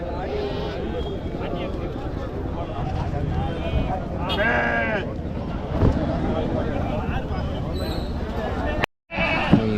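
Goats bleat amid a busy crowd at the Monday goat market in Natrampalli before Diwali. Someone talks over steady background chatter and a few clear bleats.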